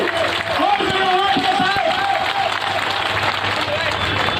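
A crowd at a public function applauds the honoured guests Narendra Singh Tomar and Vivek Narayan Sojalkar, a steady wash of clapping and crowd noise that holds for several seconds with voices mixed in.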